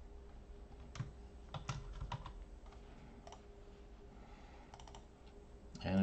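Typing on a computer keyboard while programming a PLC in Studio 5000: scattered clusters of light key clicks at close range over a low steady hum, irregular and moderately quiet.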